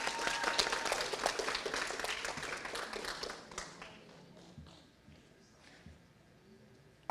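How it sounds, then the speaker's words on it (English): Audience applauding at an evening graduation ceremony, a dense burst of many hands clapping that fades out over a few seconds into near quiet. "Let's have one more round of applause for Metcalf-Lindenberger."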